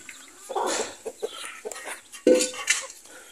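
Chickens and chicks on a farm clucking and peeping nearby in short, irregular bursts, with a sharp louder call partway through and no talk.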